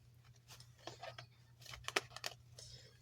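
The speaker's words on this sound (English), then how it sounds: "as I shuffle the deck, I just see the" A tarot card deck shuffled by hand, with soft riffling and sharp card snaps clustered in the middle, close and moderately loud over a low steady hum.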